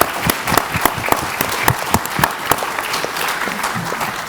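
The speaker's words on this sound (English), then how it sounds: "Round of applause." An audience at a rare disease tech innovation pitching summit claps with a steady, crowded patter of sharp hand claps, moderately close, with no voices over it.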